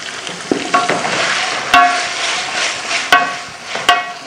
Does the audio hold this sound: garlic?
yes